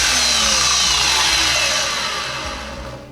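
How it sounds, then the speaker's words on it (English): A table saw runs at full speed with a loud steady whine and broadband hum that begins to fade toward the end as the blade spins down, with no voices. "it's charging the battery, and the table saw works."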